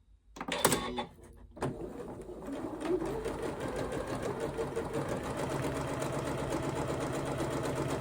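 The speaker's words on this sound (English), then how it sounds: "on the other unpinked edge I'm going to use a gathering stitch all the way around, because I'm going to gather this into a circle." A sewing machine runs a gathering stitch around the edge of fabric for a Christmas stocking. A few clicks and bumps come first, then a close, steady mechanical whirr with a fast even rhythm that continues to the end.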